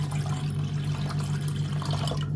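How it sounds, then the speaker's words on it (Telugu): Jaggery water being poured during Ugadi festival food preparation in the UK: a steady, close liquid stream running continuously, with no talk over it. "Jaggery water. బెల్లం నీళ్ళు పోసిండు."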